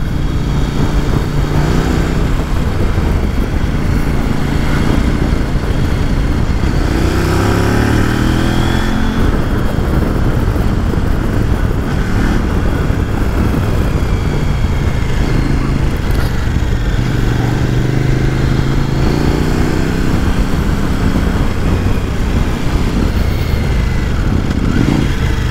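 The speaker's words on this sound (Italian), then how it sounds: "Ottimo motore, brillante." A KOVE 800 X Pro motorcycle engine runs steadily throughout a test ride, revving up and down as it rides along, loud and close.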